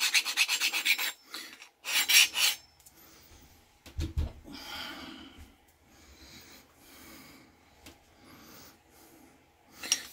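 A file rasps against the stabilizer of a hone to round it, giving short scraping strokes in loud bursts early on, followed by quieter rubbing and breathing, close up and with no talk.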